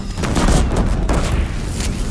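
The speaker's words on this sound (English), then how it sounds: "The Deathbringers keep firing." Deathbringer machines in Horizon Zero Dawn firing steadily, a loud, dense stream of rapid booming shots and rumble filling the whole stretch with no pauses.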